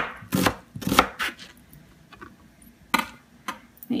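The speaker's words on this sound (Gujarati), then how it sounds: "એની અંદર તમને જો ડુંગળી નાખવું હોય તો સાવ ડુંગળીને સાવ ઝીણાએ ઝીણી આમ પીસીસ કરી" A knife chops onion finely on a board, giving irregular sharp taps in quick bursts with pauses, close and fairly loud, with no talking.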